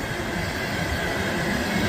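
A Norfolk Southern ethanol tanker train passing on a windy, cold day, a loud continuous roar and rumble of wheels on rails, close by and steady.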